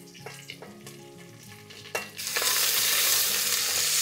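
Sliced onions and green chillies hit hot oil already spiced with cardamom and cinnamon for a vegetable pulao, after some clinks and a clatter, then a loud, dense sizzle that holds steady.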